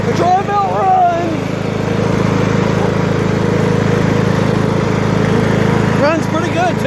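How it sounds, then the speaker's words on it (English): A 1998 Troy Bilt MTD lawn mower with a freshly cleaned muffler runs steadily nearby, its small engine droning loud and constant while a person talks excitedly over it. "Runs great! She goes! The Troy Bilt runs!"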